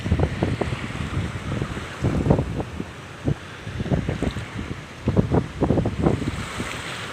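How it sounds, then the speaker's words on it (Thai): Strong wind buffeting the microphone and waves surging at a rocky seaside on a rainy day, loud gusts and crashing bursts coming in irregular waves, no voices. "ลมเริ่มแรงขึ้นเรื่อยๆแต่ตรงนี้ปลอดภัยอย่างหนึ่งมันอยู่หลังก้อนหิน"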